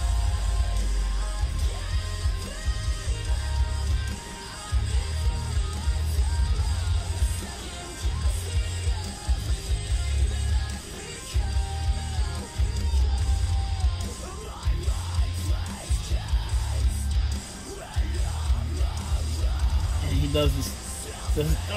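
A heavy band track with harsh screamed vocals mixed with sung lines over dense, loud instrumentation and a pounding low end that runs continuously throughout.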